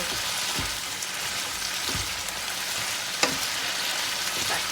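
Broccoli stir-fried in a pan for pad see ew with chicken and konjac noodles gives a steady close sizzle, with a few scraping stirs and a sharp clack from a utensil.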